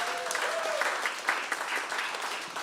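A crowd in a live radio-show studio claps after a performance, with fairly loud, sustained applause throughout and no speech on top.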